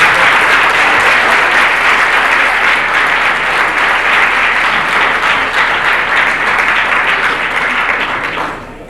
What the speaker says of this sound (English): another great big round of applause